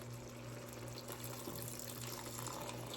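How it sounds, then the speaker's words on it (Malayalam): Kerala-style goat curry gravy pours into a pot in a steady, continuous liquid rush, with a low electrical hum running underneath and no voices. "ഇതിലോട്ട് ഇനിയിപ്പം നമ്മൾ കണ്ട ഈ ഗ്രേവി ഒഴിക്കുകയാണ്."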